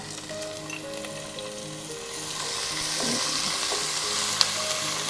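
Cashews, ginger and green chilies frying in a pan for coconut rice, a steady close sizzle with a faint background hum, occasional stirring scrapes and one sharp tap near the end.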